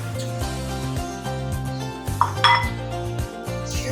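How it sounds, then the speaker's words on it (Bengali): Milk being stirred in a frying pan for khir mohon sweets, with a spoon scraping and clinking against the metal pan in a steady repeated rhythm, close and fairly loud over a constant low background hum. "ভালো করে মিশিয়ে নিচ্ছি।"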